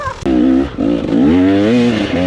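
KTM EXC dirt bike accelerating, its engine revving up in strong harmonic surges that rise and dip in pitch, loud and close throughout.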